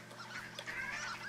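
Ducks calling in the Firewatch video game, a run of nasal honking quacks that overlap fairly close up against a steady background bed, with no talking.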